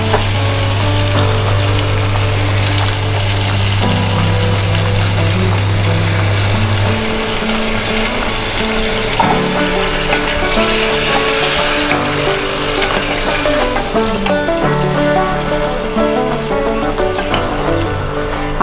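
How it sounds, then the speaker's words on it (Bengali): A bowl of water poured into chicken curry frying in oil sets off a loud, continuous, close-up sizzle and bubbling that stays intense throughout, with a steady low hum early on. "এবার আমি এতে 1 বাটি জল দিয়ে দেবো"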